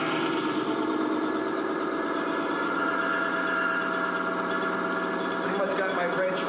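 An HVAC motor runs continuously with a steady mid-pitched hum and a faint mechanical buzz, holding an even level throughout with no breaks.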